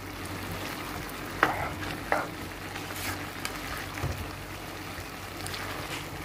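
Beef sauce with crayfish is stirred in a pot, with a low bubbling simmer and a few sharp scraping knocks of a spoon against the pot, quiet and close.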